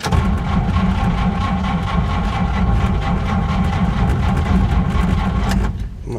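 A 1950 Oldsmobile engine cranking steadily on a cold start, a loud continuous low churning drone that runs without catching for about six seconds before cutting off abruptly.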